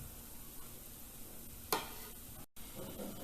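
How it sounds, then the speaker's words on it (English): Rice and lentils roasting on low heat in a pot for a Bengali khichdi, a soft steady sizzle with one brief scrape of stirring partway through. "on low heat, roast the rice and lentils till they turn glossy"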